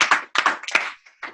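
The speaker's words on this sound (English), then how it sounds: "Let's give Claire a huge round of applause" A few separate hand claps sound close and crisp in quick, uneven succession and stop after about a second, like one or two people applauding rather than a full crowd.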